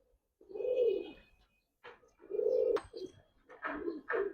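Kaldom pigeons coo close by, three soft, low, rolling coos with short pauses between, followed by a few brief clattering noises.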